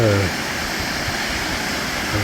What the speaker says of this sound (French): la cascade qui descend. Et c'est la rivière du Bouchot qui descend à Vanier